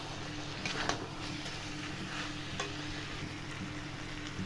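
Chicken pieces stirred and fried in a cooked-down spice paste for a catering-style broiler chicken curry, giving a steady close sizzle with scraping stir strokes throughout.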